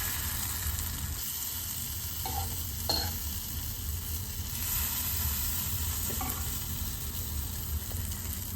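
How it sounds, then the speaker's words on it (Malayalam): Roasted coconut is stirred into a pumpkin erissery curry in a pan, a steady low simmering hiss with a few faint scrapes of the spoon, even and quiet throughout, with no speech. "തേങ്ങ വറുത്തത് കറിയിലേക്ക് ഇട്ട് കൊടുക്കാം."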